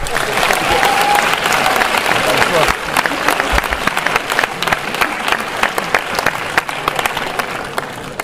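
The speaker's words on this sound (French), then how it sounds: "Et je voudrais qu'on les applaudisse." Sustained applause from an audience for participating students at a festival event, a dense wash of many hands clapping, loud and even for several seconds, with a voice briefly audible early on.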